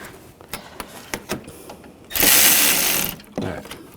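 Metal bolt being threaded and tightened by hand on the radiator mount of a 2008-2012 Jeep Liberty 3.7L V6: scattered clicks and ratcheting ticks, then a loud burst of harsh rushing noise for about a second, with more clicks after.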